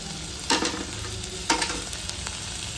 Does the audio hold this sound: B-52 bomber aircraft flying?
no